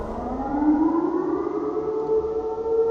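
A loud, eerie Siren Head monster siren wail in a horror video game, set in a cornfield, slowly rises in pitch and holds steady, droning continuously without any talking.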